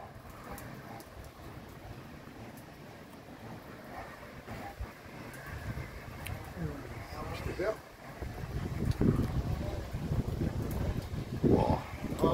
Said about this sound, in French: Écoute le vent, ça y est, ça va se lever là.